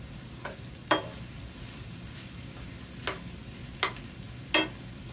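Egg, potato and sausage scramble cooks in a skillet with a low steady sizzle, broken by a few sharp scraping clicks of a utensil stirring against the pan.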